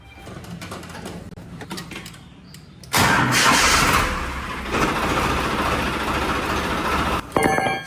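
A tractor engine cranks and catches, then runs at a loud, steady rumble close by, with a brief louder rattle near the end.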